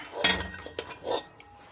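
A metal lid goes onto a cooking pot for fish sinigang with miso, giving a short clatter and rattle, then a softer second clink, close by and brief.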